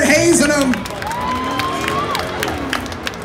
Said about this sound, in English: give them a big round of applause as we start hazing them